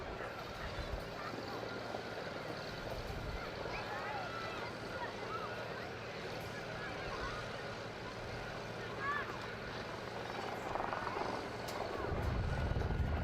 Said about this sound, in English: Kev Matheson as they pass by in their Vic